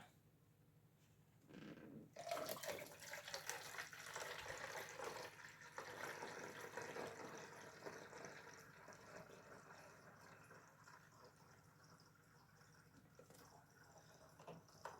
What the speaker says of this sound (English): pour my distilled water.